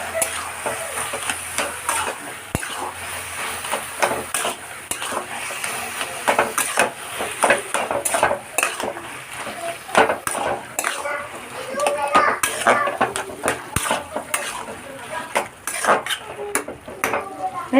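Hilsa fish head cooking with taro leaves and chopped green chillies in a pan, stirred vigorously with repeated scraping and clinking of a utensil over a soft sizzle.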